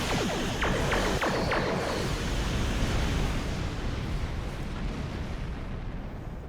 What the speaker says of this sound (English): Let's give him some of the aft torpedoes.